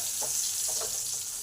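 Chopped garlic frying in a pan gives a soft, steady sizzle with a few small pops and crackles, quiet and close, with no talking.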